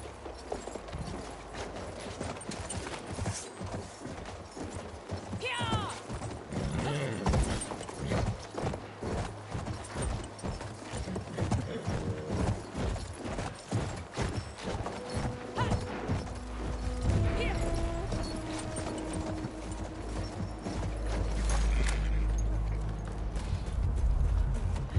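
Horse hooves clip-clop in a steady rhythm across Battlefield 1 gameplay, mixed with mechanical rattles, clanks and occasional crashes, while a narrating voice talks over part of the scene.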